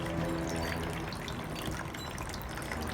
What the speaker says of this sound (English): you must cover the cap and then drain the water out